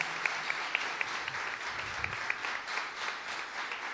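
An audience in a parish church applauds a pianist with steady, moderately loud clapping, a few sharper individual claps standing out at regular intervals over a low rumble.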